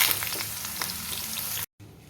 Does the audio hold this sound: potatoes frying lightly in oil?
yes